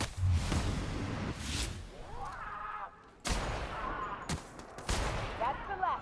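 Bursts of video game gunfire from a hard-hitting gun, several sharp volleys in quick succession separated by short pauses, loud and close, with faint ringing tails between shots.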